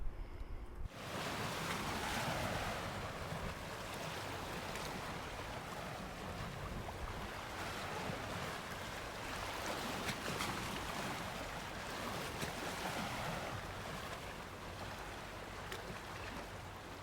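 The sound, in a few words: waves on a beach on the County Durham coast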